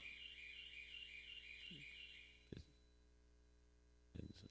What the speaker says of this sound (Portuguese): disparou o alarme, alguma coisa, né?